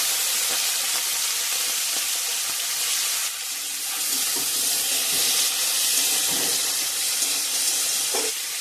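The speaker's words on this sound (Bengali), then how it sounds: "তেলটা ভালোভাবে গরম হয়ে গেছে, এবারে নুন হলুদ মাখানো মাছটা ভেজে নেব।" Fish rubbed with salt and turmeric frying in hot mustard oil, a dense continuous hiss and sizzle, close and loud, with no talking.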